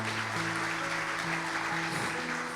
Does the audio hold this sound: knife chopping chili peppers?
no